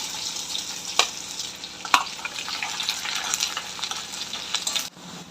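Garlic and onion frying in hot oil in a kadhai give a steady, close hiss of sizzling, with two sharp crackles early on before it suddenly drops away near the end.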